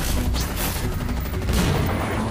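A spaceship in Halo Infinite under enemy attack, a dense, unbroken barrage of booming impacts and rumbling gunfire that stays loud and constant throughout.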